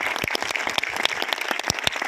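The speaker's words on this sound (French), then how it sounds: "On peut les applaudir" An audience at a film preview screening in a retirement home claps steadily, a brisk patter of many hands close by with no voices over it.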